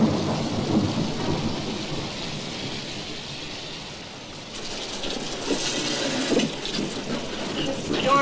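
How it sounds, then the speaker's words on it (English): Thunderstorm with heavy rain pouring steadily on surfaces and rolling thunder rumbling through, loud and close, with no voices heard. "The storm's getting worse."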